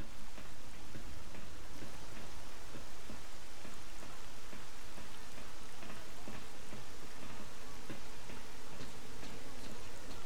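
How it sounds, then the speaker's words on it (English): Steady rain falls in a dense, continuous wash with scattered drop ticks, heard in an abandoned outdoor area near Pripyat. "And it rains again."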